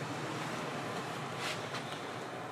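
Broad rushing wind buffets the microphone in a steady roar on a wet, dark evening, with gusty swells partway through and no voices.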